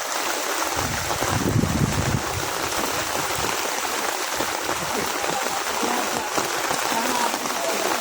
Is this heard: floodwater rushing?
yes